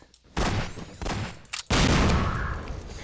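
Gunfire in the video game Garry's Mod: loud, dense bursts of rapid shots, with a short volley, a pause, then a longer sustained barrage up close.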